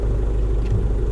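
Steady low engine rumble of a car idling and starting to pull away, camera mounted on the hood, close and constant throughout with no talk.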